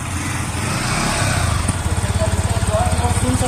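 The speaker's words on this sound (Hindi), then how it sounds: "अब बाइक को स्टार्ट करके आपको इसका एग्जॉस्ट नोट सुनाते हैं।" Yamaha MT 15 BS6 motorcycle starting up, the engine catching and settling into a rapid, even exhaust pulse heard close by, steady and fairly loud after the brief start.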